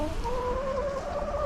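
Chickens in a backyard chicken run give soft, drawn-out clucking calls, a steady low murmur of fowl voices heard close and alone.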